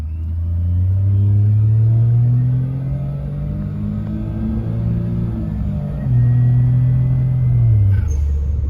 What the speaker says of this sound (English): Hear what it sounds like flat out with no muffler.